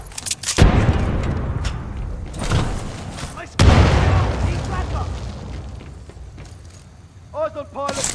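Frag grenade explosions in Titanfall 2: two heavy booms, one early and a louder one midway, each with a long rumbling decay amid game noise and chatter, and a voice briefly near the end.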